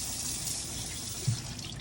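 Kitchen water tap running steadily into a sink while chicken soup is being made, a continuous close rushing stream with one brief dull knock near the end and no talking.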